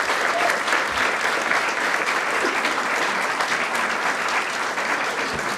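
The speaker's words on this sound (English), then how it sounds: "One more big round of applause for both of our speakers." Audience members at a Women in Business Expo give a big round of applause for two speakers, a thick, steady wash of clapping that carries evenly through the whole stretch.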